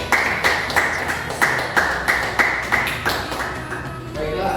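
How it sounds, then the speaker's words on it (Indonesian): Classroom applause during a micro-teaching lesson: a run of roughly eight sharp claps at a steady rhythm, moderately loud and close, with faint room noise and a brief voice near the end. "beri tepuk tangan"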